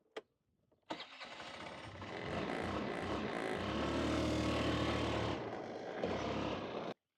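A motorcycle used for gathering cattle on a Wyoming ranch starts up: a click, a brief crank, then the engine catches and revs into a loud, steady close run before cutting off abruptly.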